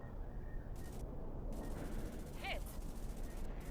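An aircraft gun fires in the Sky Combat flight game, with rapid bursts of shots over a constant low jet engine drone, heard in short repeated volleys at moderate loudness.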